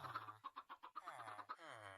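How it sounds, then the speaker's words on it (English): Minecraft chickens clucking in a quick rhythmic series of short, close, moderately loud calls, heard alone without talk. "Just waiting for chickens to grow up."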